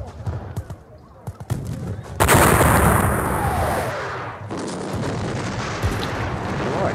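Artillery volleys boom in the John Tiller Campaign Waterloo wargame, a dense roaring burst of cannon fire that swells loudly and then trails off amid scattered sharper reports.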